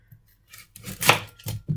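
A knife cuts a large onion in half on a board, a few crisp close chops with a louder central cut, alone without speech.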